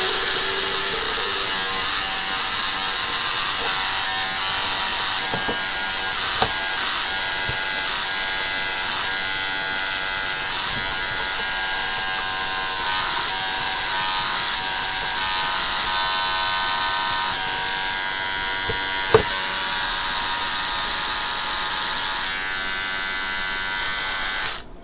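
A disassembled nebulizer motor, set up to work as a water pump, runs with a loud, steady high-pitched electric whine and buzz, holding constant for about twenty-five seconds before cutting off abruptly at the end.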